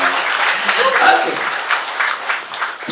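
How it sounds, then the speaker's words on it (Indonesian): Applause from a large congregation at a tabligh akbar gathering of thousands in Al-Bayyinah mosque in Bandung, a steady crackling wash of clapping lasting a few seconds while someone speaks over it. "Tepuk tangan dari bersama."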